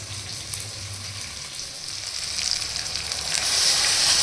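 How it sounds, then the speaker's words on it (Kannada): Eggplant for stuffed eggplant curry simmering and frying with masala paste and water in a pan: a continuous close sizzle that builds louder toward the end, with no voices. "ನೋಡಿ ಇಲ್ಲಿ ಇವಾಗ ಈ ಬದನೆಕಾಯಿಗೆ ಉಳಿದಿರೋಂಥ ಮಸಾಲೆನ ಹಾಕಿಬಿಟ್ಟು ಕುದಿಸ್ಕೋಬೇಕು ಸ್ವಲ್ಪ"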